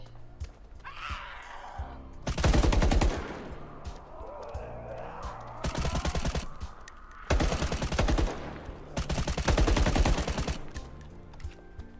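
Bursts of rapid automatic gunfire in the survival shooter The Day Before, loud unsuppressed volleys in three or four long sustained strings with brief gaps, over a low ambient background.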